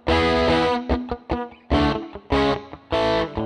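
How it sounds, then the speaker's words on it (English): Opening riff on electric guitar with a dirty, distorted tone through a Fender '57 Bandmaster amp, dry without echo or reverb: loud chugging chords in bursts with short palm-muted stabs between. "Here's the opening riff without echo or reverb."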